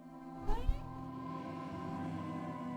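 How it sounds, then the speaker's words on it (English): A pet cat lets out a short rising meow up close, heard over a steady low hum of computer game background sound. "Cat."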